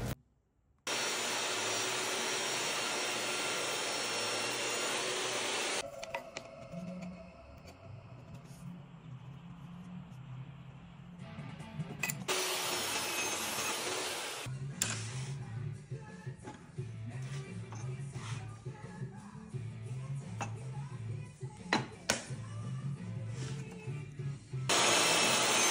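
A power saw cuts walnut and cherry panels for a humidor, giving a loud whining rip that stops, then another short cut. A voice speaks between the cuts while the machine hums in the background.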